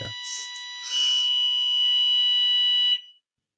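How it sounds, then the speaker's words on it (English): During a council meeting on spatial strategy, a fire alarm gives a loud, steady, high-pitched electronic tone that holds for about two seconds and then cuts off, preceded by a brief chirping start. "that's the alarm."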